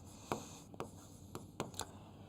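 Pen on paper during a triangle geometry lesson, with four or five short, soft scratching strokes at an uneven pace, quiet and close against a faint steady hiss.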